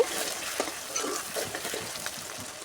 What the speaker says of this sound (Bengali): এবার ভালো করে পেঁয়াজটাকে লাল লাল করে ভেজে নেব